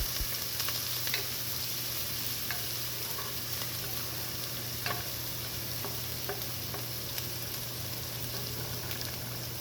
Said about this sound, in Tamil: இஞ்சி, பூண்டு, பச்சை மிளகாய் இதெல்லாம் சேர்த்து நம்ம நல்லா வதக்குறோம்